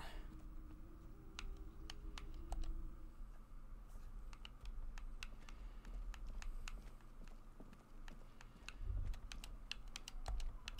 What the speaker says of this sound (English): I keep pressing the wrong button because I'm fucking keyboard mashing